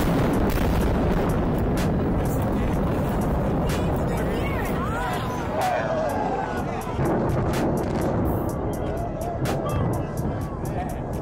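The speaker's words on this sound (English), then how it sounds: "the eastern part was blown up on the 15th of January 2019" Demolition blast of the eastern part of a bridge over the Hudson, heavy rumbling booms and a sustained roar of collapse, followed by a string of sharp cracking pops, with a crowd of onlookers in the background.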